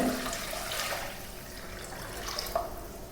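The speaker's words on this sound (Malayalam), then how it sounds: "ഇനി ഇതിലേക്ക് അളന്ന് വെച്ചിട്ടുള്ള വെള്ളം ഒഴിച്ചു കൊടുക്കുന്നുണ്ട്" Measured water is poured into a pot for ghee rice, a faint steady splashing and running-water wash with a couple of soft knocks.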